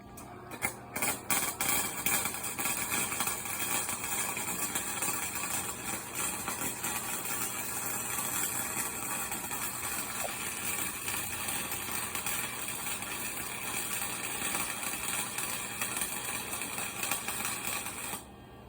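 A flux core welder on a low setting lays down weld beads with a continuous close crackle and buzz that holds steady throughout, with a few sharp pops at the start.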